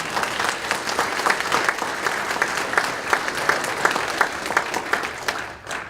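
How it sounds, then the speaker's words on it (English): Steady applause from a breakfast audience honoring community volunteers, dense clapping that keeps up throughout and fades out at the very end. "How about a round of applause for that?"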